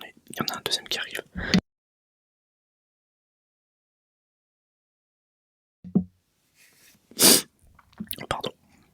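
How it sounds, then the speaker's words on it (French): A sneeze bursts out sharply at close range after a stretch of whispered talk, then silence, then soft breathy sounds and a second quick sneeze-like burst followed by more whispering. "j'ai éternué. Il y en a un deuxième qui arrive"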